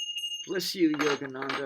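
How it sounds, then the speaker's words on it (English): A single bell rings with a clear high tone that decays over about half a second, then a person starts talking. "That deserves a ring of the bell."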